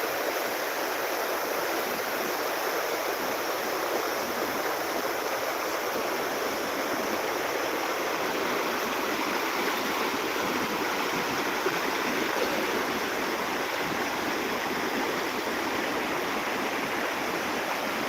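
Floodwater rushes through Kase village in Konkan's Sangameshwar area during the 2025 flood, a steady, loud broadband roar that holds constant for the whole stretch with no voices over it.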